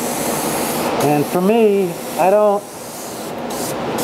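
An HVLP sprayer applies conversion lacquer to doors, giving a steady, even hiss that runs throughout at close range while someone talks briefly over it.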